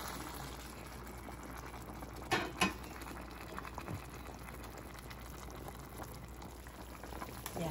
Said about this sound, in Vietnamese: nồi cá nó đang sôi như vậy sắp chín rồi đó